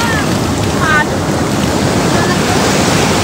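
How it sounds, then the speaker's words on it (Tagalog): Strong ocean waves at Cabongaoan Beach, a loud, continuous roar of surf and wind buffeting close by, with brief voices faintly in the mix. "lakas ng alon guys"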